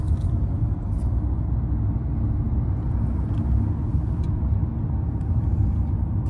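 Kia Sonet facelift HTX diesel automatic driving on the road, a steady low engine and road rumble heard from inside the cabin, continuous with no talk.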